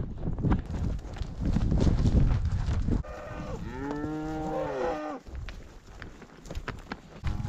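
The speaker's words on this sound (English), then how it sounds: "We just keep picking up cows as we go." Cattle lowing as a herd is gathered and driven down off a mountain, with one long, clear moo rising and falling in the middle, plus a rougher low call earlier under wind and movement noise.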